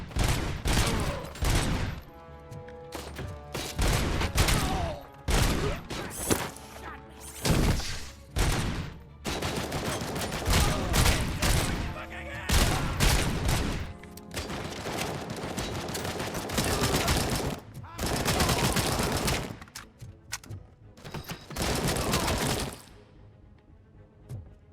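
Dense, loud gunfire from the shooter game Robocop Rogue City, with rapid bursts and sustained automatic volleys that repeat almost without pause for about twenty-five seconds and leave only brief gaps between salvos.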